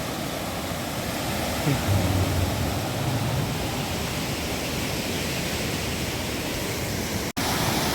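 Floodwater rushing through a stream in Hyeon-ri, Gyeonggi, after heavy rain: a loud, constant roar fills the whole stretch, with a brief faint voice early on.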